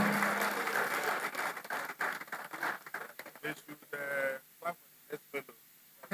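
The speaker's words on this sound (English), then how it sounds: "I can't hear that applause for the MD CEO as he steps forward." Audience applause at a Nigerian Institute of Electrical and Electronics Engineers ceremony as the MD/CEO of Niger Delta Power Holding Company steps forward: a dense burst of clapping that thins out into a few scattered, isolated claps.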